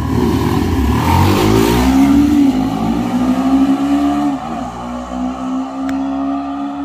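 Apache RR 310 and Suzuki V-Strom SX 250 motorcycles revving hard at the start of a drag race, engines climbing loudly in pitch, then dropping and steadying as they pull away.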